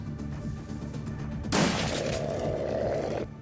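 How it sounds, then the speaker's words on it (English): Gunfire erupts in the video game Shadowrun: Dragonfall, a sudden loud burst of shots after a quieter stretch of game ambience, followed by a sustained rattling noise that cuts off near the end. "So I'm going to have Iger like shoot it twice"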